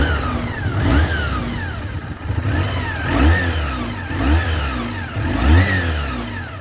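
Honda VFR400 NC30 motorcycle engine revved repeatedly with the throttle blipped, rising and falling in several loud close sweeps over a steady running note.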